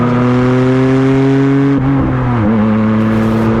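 A loud, harsh Porsche 911 GT1 race car engine revs steadily, heard from the cockpit, with rich buzzing harmonics, dipping briefly in pitch near the end as the throttle shifts, with no voices.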